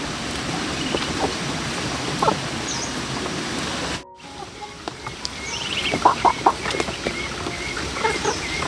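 Hens and chickens on a rural farm cluck and call intermittently at close range, with scattered bursts and a brief dropout partway, over faint rain-like background.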